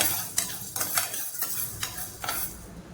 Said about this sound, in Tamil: இது வந்து ஃபுல் மீடியம் லோ ஃப்ளேமில் வச்சு இதை வந்து வறுக்கணும்